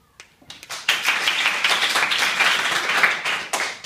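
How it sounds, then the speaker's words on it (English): Studio audience on Ellen's talk show applauding Lady Gaga, a burst of clapping that starts abruptly, holds steady and full for about three seconds, then fades. "applause."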